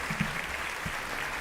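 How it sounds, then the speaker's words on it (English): A brief round of clapping rises from a small group, a dense patter of hands lasting about a second, close and moderately loud with no voices over it. "we give the round of applause, boys"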